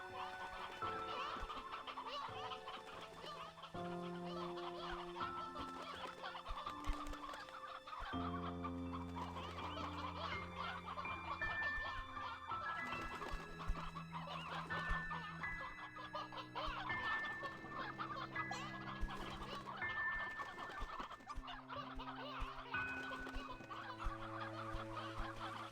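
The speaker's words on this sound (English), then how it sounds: "Let's gather a whole bunch of chickens and put them in there." Chickens clucking in the video game Slime Rancher 2, repeated soft clucks and chirps scattered over a constant bed of layered game music, fairly quiet overall.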